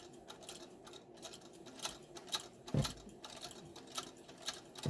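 A Singer 27 sewing machine runs outside its treadle stand, its needle mechanism chattering in a fast, steady mechanical rhythm with occasional louder clunks, close up and with no voices.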